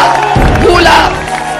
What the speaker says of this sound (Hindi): मगर ये तालियां आप सुन सकते हैं।